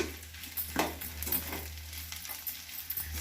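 Vermicelli upma ingredients with coriander leaves fry in a pan, giving a soft, steady sizzle with light stirring clinks over a low hum.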